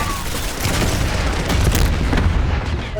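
Dense gunfire in the Black Ops 6 video game during a fight aboard a bullet train, with rapid overlapping shots and booming blasts packed close together, loud and continuous.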